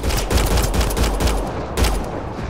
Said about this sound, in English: Doesn't have that much recoil, this gun.